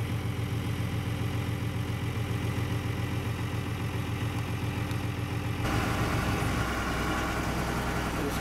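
Tractor engine running steadily while driving across a pasture spreading manure, a continuous low drone that shifts in tone partway through, with rattling and bouncing noises and no talking.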